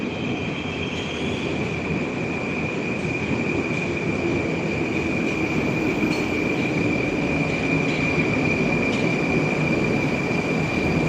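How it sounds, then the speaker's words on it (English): A Moscow metro train arrives at a station with a steady loud rumble of wheels on rail and a sustained high squeal throughout, no voices. "We were talking for a minute and the train's already here."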